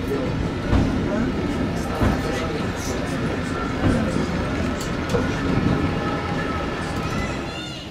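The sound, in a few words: funicular railway to Orselina above Lake Maggiore, Switzerland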